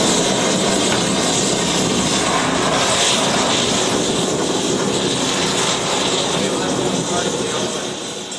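A lit spit valve burns liquid propane fed at about 110 pounds, giving a loud, steady roaring hiss that holds constant and eases slightly toward the end.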